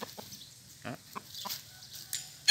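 Several newly caught fighting roosters, still timid, give short scattered clucks at close range, separated by quiet gaps, with a louder burst at the very end.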